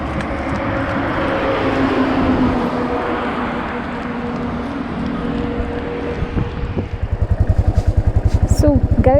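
A Royal Enfield Thunderbird 500 cruises on a wet road under steady wind rush. Near the end its engine drops to a slow, heavy thumping pulse, with a rider's voice talking over it.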